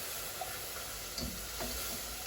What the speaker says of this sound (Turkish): O yüzden hemen hızlı hızlı sütümüzü döküyoruz.